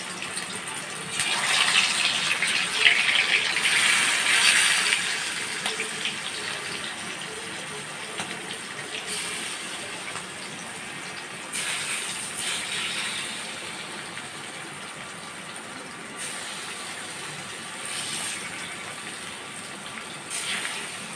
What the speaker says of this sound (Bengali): তেল গরম হয়ে গেছে এখন আমি মাছগুলো দিয়ে দেবো